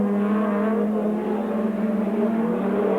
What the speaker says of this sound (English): Clark chews up the Silverstone turf over the rumble strip, back onto the track to do his last lap.